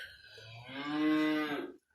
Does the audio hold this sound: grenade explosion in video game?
no